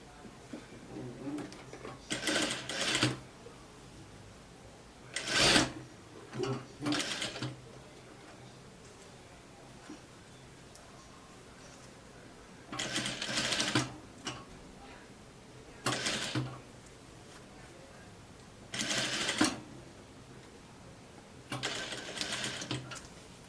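A sewing machine stitches a double sleeve for a gypsy-style dress in several short bursts of fast mechanical whirring, separated by quiet gaps, close and clear.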